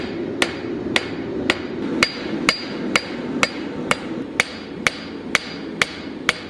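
Metal leaf takes a forging hammer's evenly spaced blows, about thirteen crisp clanging strikes close by, each ringing briefly over a low hum in a steady, unbroken rhythm.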